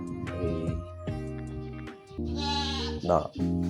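A goat bleats several times, wavering, drawn-out calls close by, with one higher sharp cry near the end; a newborn kid is nearby.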